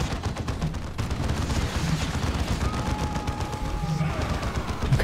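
Sustained rattling fusillade of gunfire in the video game Dawn of War 2, dense and continuous throughout at moderate level, with thin game tones faintly above it.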